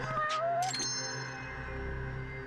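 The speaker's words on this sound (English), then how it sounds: "Oh, look, a cat." A cat in the video game Judgment gives a couple of short, high meows over a steady game soundtrack, close and clear, with the music carrying on after it falls quiet.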